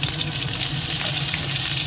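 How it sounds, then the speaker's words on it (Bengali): Potatoes fry in oil with a short, close, continuous sizzle that stays dense and even, and no talking. "আলুটা ভাজতে দিয়ে দিই"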